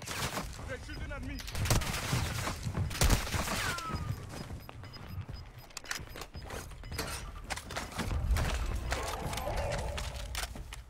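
Gunfire in a first-person shooter game, with dense rapid bursts of shots and mechanical clatter over a continuous loud battle din.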